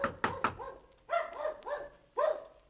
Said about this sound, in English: that sounds like Mickey barking